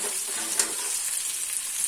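Onion, chili and curry leaves added to cumin in hot oil, a steady bright sizzle with light stirring, close and continuous with no talk.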